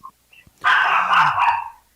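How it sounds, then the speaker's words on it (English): Dogs bark in one sustained, harsh burst lasting over a second, close and loud, after a couple of faint short yelps. "Your dogs are angry."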